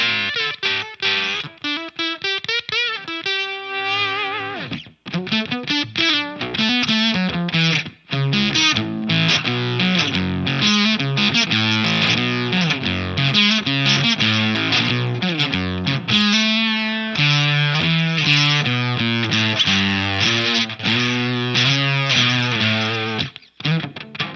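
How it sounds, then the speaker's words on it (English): An electric guitar played through a heavy Voodoo Octave Foxx octave fuzz pedal, gritty, bit-crusher-like and synth-like, riffing continuously with choppy, glitchy notes and brief pauses. "Let's see what the Octaverse sounds like with that."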